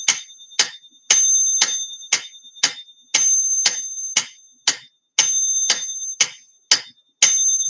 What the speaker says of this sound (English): every time you hear that bell, you know you're moving to the next measure